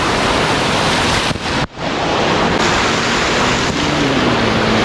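Hydromassage jets churn and bubble steadily in a spa pool, with one jet aimed at the legs and one at the back, making a dense, close, unbroken rush of water with one brief dip partway through.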